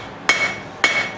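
A hammer strikes during the forging of cutting knives. Two sharp, ringing metallic blows land about half a second apart, each leaving a bright tone that lingers.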